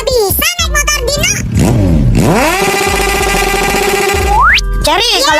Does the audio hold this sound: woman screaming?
no